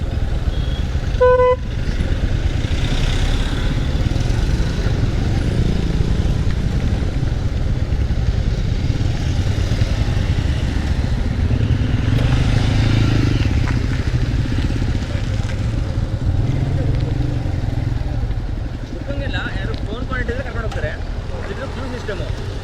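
Busy coastal road traffic between Murudeshwar and Honnavar, engines and motorbikes rumbling steadily, a few horn toots near the start and again near the end, voices murmuring underneath.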